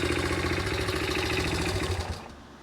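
A 1982 Honda XL80S small motorcycle engine idles steadily with a fast, even putter close by, then cuts off abruptly near the end, leaving near-silence.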